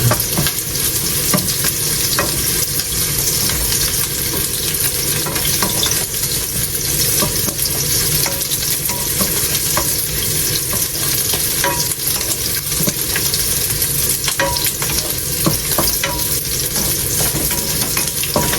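Garlic frying and being stirred in a hot pan gives a loud, steady sizzle that runs unbroken throughout, with faint scraping of stirring mixed in and no talking.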